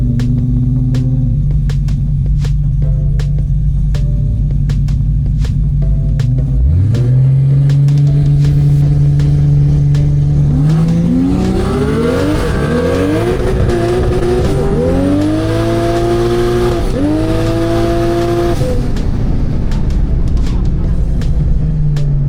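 A no-prep drag car idles with a deep burble, then launches at 3,000 rpm with tyres spinning, the engine climbing hard through several rising gear sweeps, loud and close, with voices now and then under the roar.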